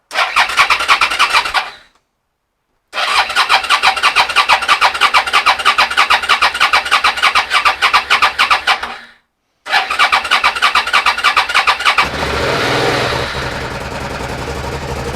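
Suzuki SV650 motorcycle fitted with a new CDI cranks in two long starter bursts with pauses between, then fires and catches into a rough, loud running engine close by.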